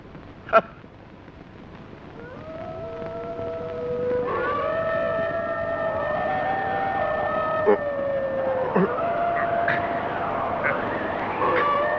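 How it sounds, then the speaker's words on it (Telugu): Jackals howl near a fort at night, long rising and wavering wails overlapping into a sustained chorus for several seconds, preceded by a sharp knock and with a few sharp clicks later. "నక్కలు కూస్తున్నట్టున్నాయి."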